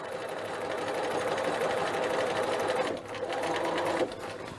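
A sewing machine runs steadily close by while stay stitching around the back neck edge curve of a dress, its motor whirring with a brief pause and restart near the end.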